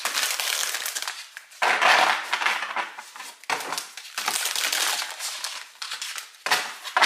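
Tarot cards flipped and shuffled by hand, producing dense crisp snapping and riffling bursts that come in several loud, close clusters with brief gaps between them.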